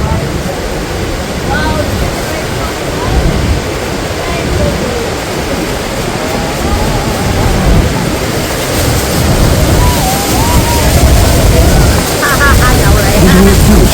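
A broad, constant roar of heavy falling water from Niagara Falls, heard from a tour boat, fills the scene, loud and close, with a narrating voice talking over it.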